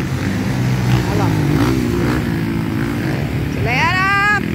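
Motocross motorcycles race at Interlagos during the Brazilian championship, engines droning and revving loudly with rising whines as bikes accelerate, heard close and continuous.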